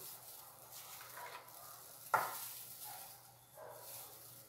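Coconut milk soap mixture stirred in a pot, soft scraping and sloshing strokes with one sharp knock of the utensil against the side midway, fairly quiet and with no talk.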